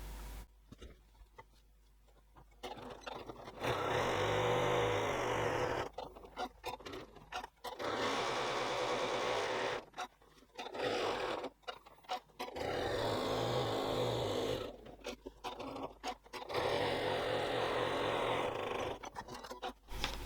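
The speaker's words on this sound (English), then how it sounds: "you can also add extra lines of stitching if you want to" A sewing machine runs several bursts of steady whirring as it stitches extra reinforcing lines on a zipper tote bag, with short quiet pauses between the runs.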